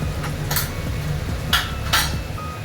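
A utensil stirs chili powder, spices and vegetables in a cooking pan, with soft continuous scraping and a few sharper metallic scrapes against the pan over a steady sizzle-like background hiss.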